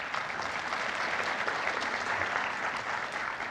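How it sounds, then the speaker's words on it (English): A conference audience at a tech event gives a round of applause to an IT group, sustained dense clapping from many people, even and moderately loud throughout. "So big round of applause for that group."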